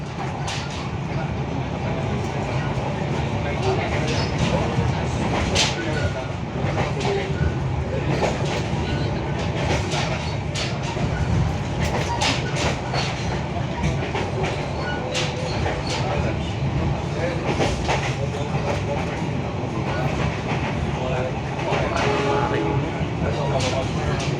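A passenger train on the Pangandaran line rumbles steadily along the tracks with a continuous roar and faint rhythmic clatter, loud and close, with no voices standing out.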